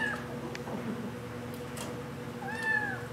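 A cat at a humane society animal shelter in Waycross, Georgia meows twice, a short cry near the start and a longer rising-falling meow near the end, over steady background hum.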